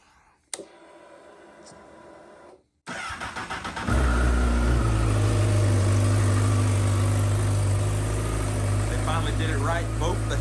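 A 2021 Honda CBR 1000RR superbike engine cranks and fires up loudly after a brief click and pause, then settles into a steady, strong idle with a deep rumble close by; a voice is heard faintly early on.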